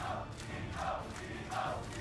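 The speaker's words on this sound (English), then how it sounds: "as the crowd continues to chant" A crowd chants at a League of Legends esports match, faint and distant, rising in a rhythmic surge three times over a low arena murmur.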